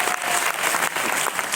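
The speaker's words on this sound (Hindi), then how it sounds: "महिला शक्ति। तालियां।" An audience breaks into brisk applause, a loud, dense rush of clapping hands that fills the whole short moment without a break.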